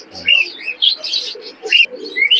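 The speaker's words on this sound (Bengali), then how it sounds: "ব্ল্যাক হর্স কবুতর, খুব দাপাদাপি করতেছে" Black horse pigeons in a crowded pigeon market in Khulna give a run of loud, close chirping calls in short bursts, one after another.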